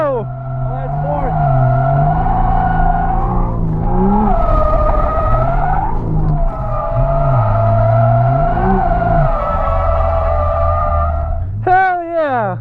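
A 2020 Toyota Supra drifting in fourth gear roars loudly, its engine note swelling and dipping through long sustained pulls with gritty tire noise underneath and a sharp rising rev near the end.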